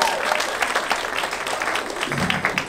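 Comedy club crowd at the Orlando Improv applauding steadily, a dense wash of clapping with a few cheers, close and loud throughout.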